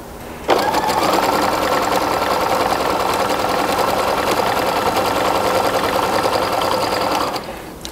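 A sewing machine top stitching folded fabric straps over elastic runs loud and close in one continuous, even whir of rapid stitching for about seven seconds, with a brief start and stop.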